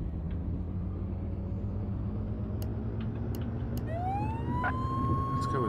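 A fire engine siren in the Flashing Lights firefighting game starts up partway through and rises into a wailing tone over a low engine rumble, with a voice talking during it.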